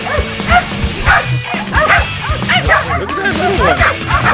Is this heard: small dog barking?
yes